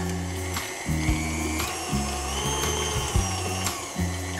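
Electric mixer or blender whizzing cupcake batter, a loud motorised whine that pulses on and off in short, regular bursts with brief stuttering gaps between them.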